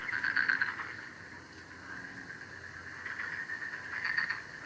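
Steady chorus of frogs croaking continuously from a marsh, a dense trilling drone with slight swells in loudness.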